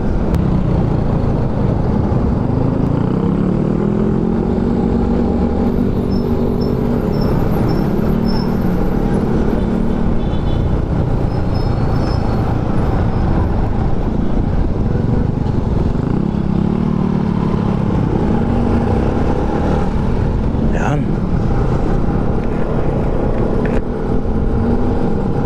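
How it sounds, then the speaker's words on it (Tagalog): City road traffic during a town fiesta in Nueva Ecija, a steady loud rumble of passing cars and motorcycles close by, with engine drones rising and falling throughout and a brief horn-like tone near the end. "nagkakaroon ng traffic"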